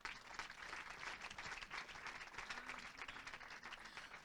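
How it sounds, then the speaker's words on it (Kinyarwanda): A church congregation applauds in a steady, dense wash of clapping that holds evenly for several seconds, fairly soft and distant. "Twongere Imana amashyi."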